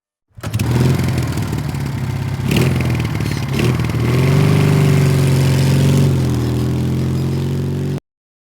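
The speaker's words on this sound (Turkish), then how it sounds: "Polis motosikleti, bu bir polis motosikleti" A police motorcycle engine idles and revs nearby, loud and rumbling, with a few sharp throttle blips before settling into a steady drone that cuts off abruptly.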